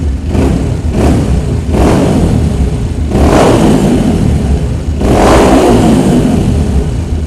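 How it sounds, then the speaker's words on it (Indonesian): A motorcycle engine being tuned with a Juken 5 auto-mapping ECU revs loudly up close, rising about five times in rhythmic bursts over a continuous running drone. "kita tes dulu motornya"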